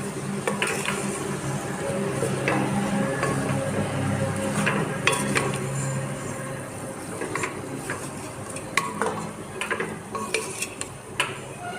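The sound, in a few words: stirring banana flower and fish head dish with salt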